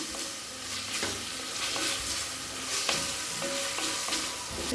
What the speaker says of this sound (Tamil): நல்லா 1 நிமிஷம் வரைக்கும் வதக்கிக்கலாம்.